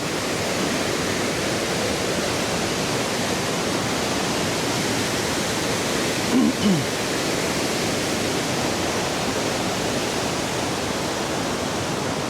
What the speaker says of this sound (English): Take a look at the water drop here.